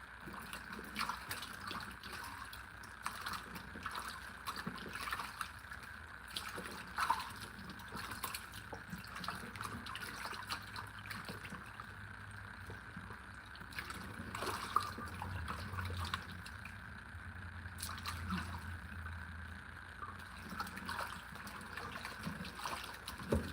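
Tap water runs and trickles steadily over pork ribs being washed by hand, a faint continuous splash with occasional drips and handling sounds, no talking.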